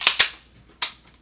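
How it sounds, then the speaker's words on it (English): Dry firing a cleaned 1911 pistol: two sharp metallic hammer clicks close together, then a third click after a short pause, close and crisp in a quiet room. "there's only one way to find out now if what we did worked, and that is to dry fire it"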